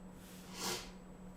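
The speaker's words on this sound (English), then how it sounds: "Do you have the sniffles?" A single quick nasal sniff on a warm day, a short, soft breathy rush that swells and fades in a quiet room with a faint steady hum underneath.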